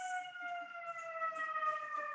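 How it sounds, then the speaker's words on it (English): A wailing siren holds steady tones throughout, loud and continuous, with a faint hiss above it; no voices. "I apologize for the sirens."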